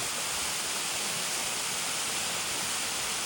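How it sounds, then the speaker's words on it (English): A waterfall roars as a steady, dense rush of falling water heard from close to its base, loud and unbroken with no other sounds. "Now I'm really at the bottom of the waterfall."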